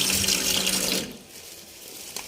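Tap water runs hard into a sink for about a second while ridge gourds are washed, then drops to a quieter trickle and gentle splashing, close by.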